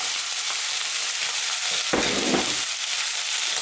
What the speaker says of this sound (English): We're now going to go in with our onions.